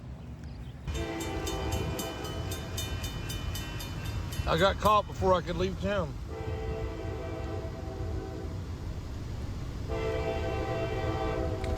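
A CSX rock hopper freight train rumbles past as its horn blasts in long, loud sustained blows with a short broken pattern in the middle, while someone speaks briefly over it.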